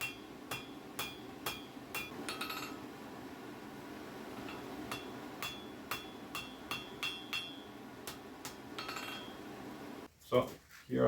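Blacksmith hammering a scarf for a forge weld on a garden fork: a steady series of sharp metallic hammer strikes in a slow, even rhythm, moderately close against a quiet background hiss.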